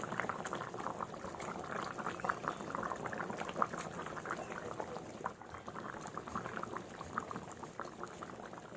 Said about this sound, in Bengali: তো আমার ঝোলটা ভালোভাবে ফুটে গেছে, এবার বাকি মাছগুলো আমি ছেড়ে দেব।